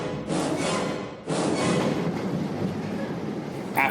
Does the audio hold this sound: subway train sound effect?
yes